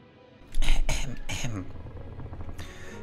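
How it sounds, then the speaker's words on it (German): A small cough from someone narrating the point-and-click adventure game Thimbleweed Park, heard as two or three short, close, breathy bursts followed by quieter murmuring and throat noise. "Achtung, kleiner Husten."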